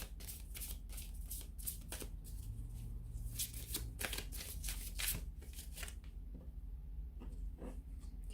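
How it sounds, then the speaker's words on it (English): Angel Answers oracle cards being shuffled by hand, a quiet, close run of rapid riffling flicks and soft card slaps repeating across the clip without any talking. "I'm going to give the Angel Answers card a shuffle here"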